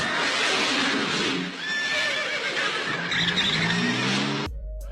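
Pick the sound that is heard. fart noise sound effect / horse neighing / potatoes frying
horse neighing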